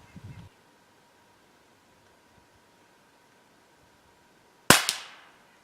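.22 caliber rifle firing a CCI CB short round outdoors, a single sharp crack near the end with a short decaying tail after a long quiet stretch.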